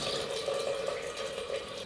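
Water pours steadily into a pressure cooker holding carioca beans, a continuous close splashing rush with no talk.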